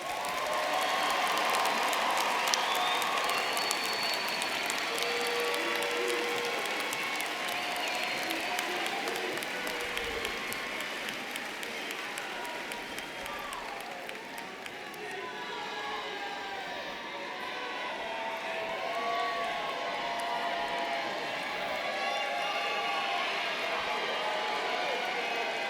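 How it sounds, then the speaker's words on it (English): A commencement crowd applauds doctoral graduates at a university social work ceremony, sustained clapping from a large hall mixed with scattered cheers and whoops, steady and fairly loud for the whole stretch. "let's have a round of applause for our doctoral graduates"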